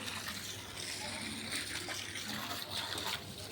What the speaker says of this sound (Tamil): பாருங்கள் ஃப்ரெண்ட்ஸ், நான் இது போர் தண்ணி, ஆற்று தண்ணி கிடையாது.